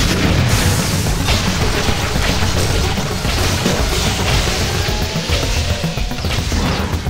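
An auto turret in the video game Sanctum 2 fires continuously, a dense loud barrage of rapid booming impacts and crashes that keeps going without a break, close and with no talking.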